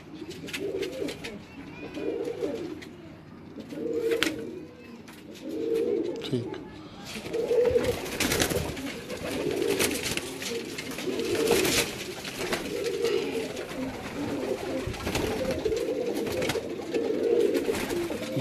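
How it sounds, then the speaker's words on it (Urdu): An old-breed Kasuri pigeon cooing in a loft, repeated soft rhythmic coos close by at a steady pace, with occasional bumps and rustles around it. "یہ پرانی نسل کا کسوری کبوتر ہے کسوری کبوتر"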